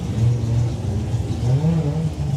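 A Nissan drag racing car launches at a national finals drag meet. A loud, fairly close engine drones and its note wavers and climbs in pitch over a couple of seconds, with no voices.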